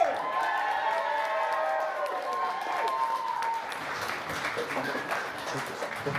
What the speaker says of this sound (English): Huge round of applause for the girl!